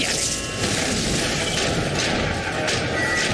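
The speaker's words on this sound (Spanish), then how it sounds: "¡Justo a tiempo para los fuegos artificiales!" Booming fireworks bursts during a prison-escape scene in a Spider-Man video game, a continuous rumbling barrage of blasts and crackle that fills the whole stretch at high volume, with no speech over it.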